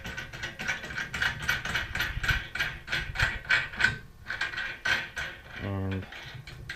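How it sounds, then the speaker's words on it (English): Metal feet are screwed into load cells on an aluminum hive-scale frame, giving a run of quick rhythmic ratcheting clicks and scrapes, close and fairly loud, ending in a short buzzing rattle. "So just go ahead and screw those in."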